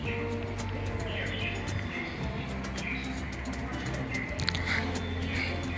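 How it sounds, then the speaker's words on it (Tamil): Birds coo and chirp beside a barrage where water rushes off toward a power intake, the calls scattered and fairly near over a steady bed of flowing water and low hum. "அங்கே இருக்க பறவைகளோட சத்தமும் எவ்வளோ அழகாக இருக்குது"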